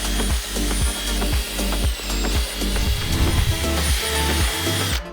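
A small power drill with a small bit bores holes in a chicken coop, making a series of repeated short whirring bursts with clicks and knocks between them, close and fairly loud.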